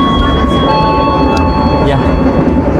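Indonesian KA Sancaka Utara passenger train travelling from Surabaya to Yogyakarta near Klaten, a loud steady rumble of wheels on rails with faint tonal hums, heard continuously from on board.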